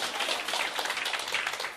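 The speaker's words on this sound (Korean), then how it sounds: "박수 한번 주세요, 서 계신 사장님들한테." A seated audience at a business briefing claps for the standing owners, a dense steady patter of many hands lasting the whole moment and fading slightly at the end, with no voices over it.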